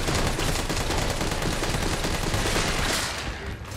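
Dense, continuous automatic gunfire in Resident Evil 3 Remake, loud, rapid bursts filling the whole stretch before easing slightly at the end, with no talking.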